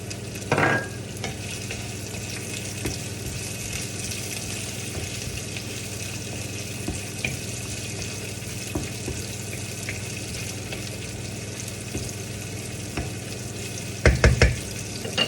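Shrimp and vegetables stir-frying in a pan for chopsuey with quail eggs, a steady close sizzle running throughout with a few clattering utensil knocks near the start and end.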